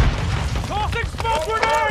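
Semtex sticky grenade going off in Call of Duty Warzone, a booming blast and rumble mixed with gunfire-like crackle, heard under excited voices talking over the action.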